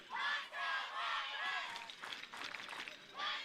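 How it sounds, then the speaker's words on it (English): Fans at a high school baseball playoff game between Central and St. Amant cheer and shout in a loud, sustained crowd roar that swells, dips briefly in the middle, then rises again. "The crowd here in Central getting into it."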